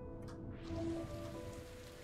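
Soft rain falls in the video game Hue, a faint, steady patter with a brief faint tonal note partway through and no voices.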